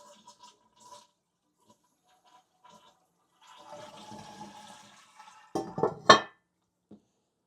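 A household toilet flushes once after its tank has refilled during dewinterizing, a rushing surge of water building over a few seconds and ending in a loud close gurgle, after quiet handling noises.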